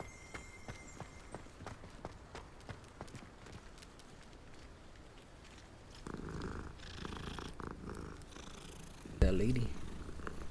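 Cat purring in the video game Hogwarts Legacy, a steady low rumble under game ambience, with faint hoof-like clops and a brief louder burst near the end.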